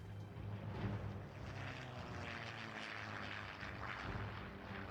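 Propeller airplane engine in the adventure game The Journey Down, a steady loud drone that holds through the whole stretch with a low throbbing hum and brief swells.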